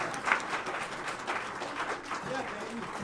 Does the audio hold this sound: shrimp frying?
no